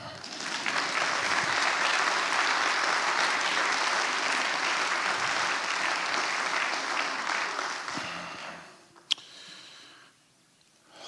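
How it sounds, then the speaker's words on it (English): Sustained, full applause from a keynote audience, broad and steady for about eight seconds before tapering off, with a sharp click near the end and a quiet tail. "Can I have a round of applause?"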